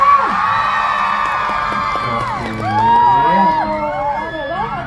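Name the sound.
audience applauding and cheering for a contestant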